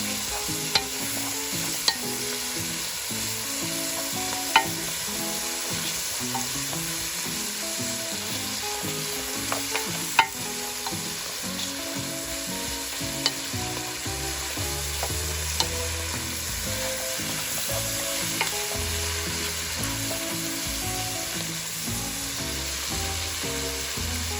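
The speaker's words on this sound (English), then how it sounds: "Cooking with the onions now." Kale, rutabaga and celery fry with onions in plenty of oil for a stew, a steady dense sizzle running throughout, broken by occasional sharp clicks of stirring against the pot.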